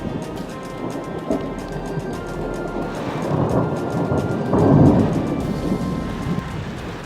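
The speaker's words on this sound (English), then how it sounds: "A June thunderstorm on the loop road brought heavy snow with it." June thunderstorm with heavy rain pouring steadily and low thunder rumbling, swelling into louder rolls near the middle and again toward the end.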